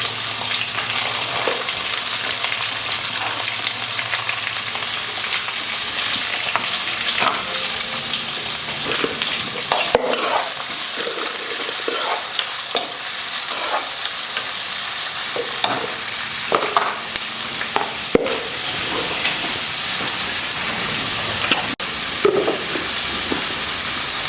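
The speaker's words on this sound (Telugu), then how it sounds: "ఈ ఉల్లిగడ్డలు వేసుకోవాలి." Onions sizzle and fry steadily in hot oil for a tomato pickle, with occasional stirring scrapes over a continuous bright hiss, close and loud, no talking.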